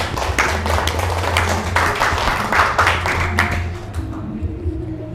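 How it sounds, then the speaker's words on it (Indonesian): Brief clapping from a small group of vocational school students in a classroom, uneven and moderately close, fading out toward the end. "Tepuk tangan dong buat kita semua"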